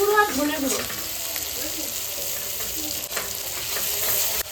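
Chili powder, cumin and masala frying in a pan for chicken biryani, a continuous loud sizzle with stirring scrapes throughout.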